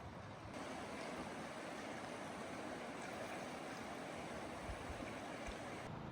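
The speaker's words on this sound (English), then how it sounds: "How beautiful is this camp here on the Gallatin River?" The Gallatin River flows past a roadside campsite near Grand Teton, a steady, unbroken rush of water that stays level and moderately quiet throughout, with no voices.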